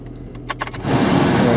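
A cold Opel Astra engine cranks and catches after a few brief clicks and a key jingle, settling into a loud, steady idle that fills the rest of the moment.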